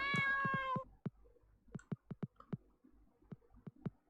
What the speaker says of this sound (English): That's a noisy cat.